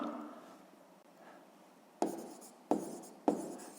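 Pen strokes on paper while working a sixth-grade math exercise: faint soft scratching, then three sharp taps close by, quiet and alone.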